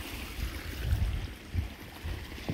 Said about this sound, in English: You got waterfall after waterfall after waterfall.